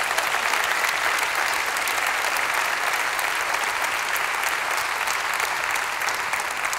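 Conference audience applauding at a church team event, dense sustained clapping from a large crowd that fills the whole stretch steadily and loudly, with no speech on top.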